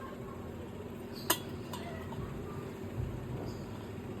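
A lid is set on a cooking pot of echore chingri, a prawn curry, giving one sharp metallic clink, then a softer knock, over a steady low kitchen hum.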